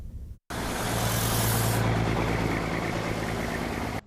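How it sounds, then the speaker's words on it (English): Trucks hauling snow and ice drop loads at the RFK site in Washington, DC, a loud, close engine roar with a heavy low drone that surges, then holds steady before cutting off abruptly. "Trucks are hauling piles of snow and ice from DC streets and dropping it off at RFK."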